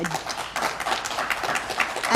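Audience applause at the close of a lecture on parental alienation research, a dense, steady wash of many hands clapping at moderate level for about two seconds.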